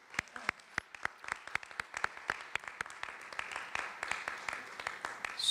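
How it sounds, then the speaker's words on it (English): A small audience at an Army Cadet Command Marshall Award gathering applauds, with scattered, uneven hand claps that start sharp and separate, then thicken slightly into a thin, modest patter. "let's give them a round of applause"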